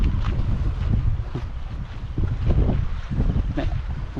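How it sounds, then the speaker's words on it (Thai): Strong wind and choppy waves at a reservoir in high water, a loud continuous roar of wind buffeting the microphone with irregular water slaps and gusts, no voices. "ทั้งลมทั้งคลื่นมาเต็ม"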